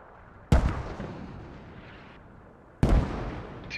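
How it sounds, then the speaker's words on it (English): Two mortar shells land in a military shooter game, each a sharp, loud blast with a long rumbling decay, the blasts spaced a couple of seconds apart. "Mortar's about ready to land."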